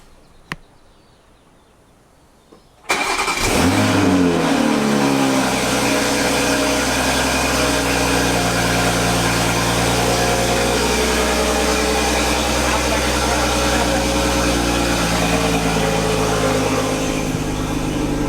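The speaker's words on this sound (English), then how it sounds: "Cold start." After a quiet moment and a faint click, a catless Mk5 Toyota Supra engine cold-starts, cranking and firing up loudly, then settles into a steady, rumbling high idle.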